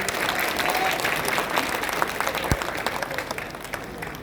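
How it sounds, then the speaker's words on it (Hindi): A crowd applauding at a political rally in Phulpur, welcoming a speaker: sustained, dense clapping from many people, fairly close and steady, with one sharp thump partway through. "जोरदार ताली बजा कर स्वागत करिए"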